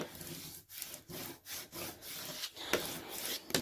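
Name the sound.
squeegee rubbing transfer tape onto vinyl decal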